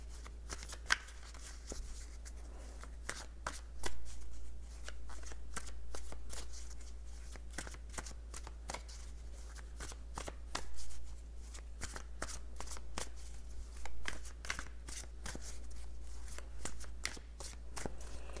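Tarot cards riffle and slap in repeated shuffling bursts, close and crisp, with no talking over them, for the length of the passage.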